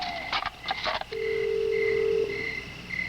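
A telephone call in progress gives off a burst of dialing tones, then a long steady ringback tone with faint higher beeps, heard close over a quiet line.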